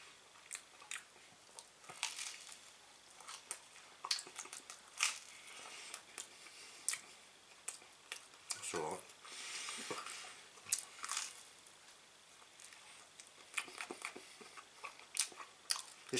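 Close-up chewing of Hartley's strawberry jam, with soft wet bites and crunchy mouth sounds repeating irregularly, fairly quiet and with no talking.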